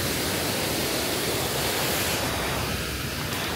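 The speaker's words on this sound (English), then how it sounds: "And here's a waterfall on the park." A waterfall in a park in central Hong Kong roars as a dense, steady wash of noise, close and constant, with no voices over it.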